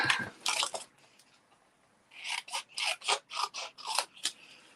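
Scissors cut through card in a series of crisp rasping snips, one short cut followed by a pause and then a rapid run of about eight close, loud strokes.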